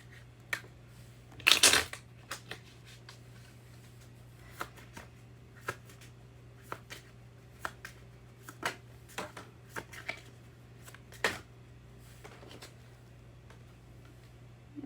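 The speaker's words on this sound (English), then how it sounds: "I'm just going to shuffle all new because a lot of cards came flying out" Tarot cards are shuffled by hand, with faint, close riffles and soft taps scattered irregularly and one louder riffling burst near the start, no talk over them.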